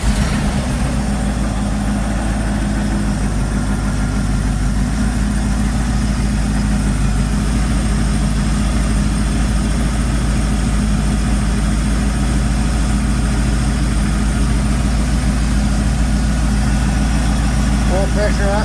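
A 1978 Ford F100 engine idles steadily and close by with a deep, even, continuous rumble throughout, and a voice speaks near the end.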